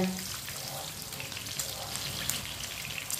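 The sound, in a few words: onions frying in a pan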